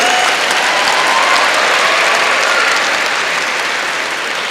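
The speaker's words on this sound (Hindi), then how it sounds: "तो लड़कों के लिए एक बार ताली होनी चाहिए।" Loud, sustained applause from a large crowd fills the whole stretch, thick and continuous without pauses.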